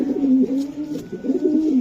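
A male racer pigeon coos nearby in a steady, rolling, throaty rhythm that stays loud and continuous with no other sound over it.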